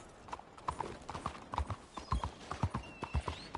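A horse's hooves clop in a quick, even galloping rhythm in the Red Dead Redemption 2 video game, close and clear, with faint ambient sounds behind.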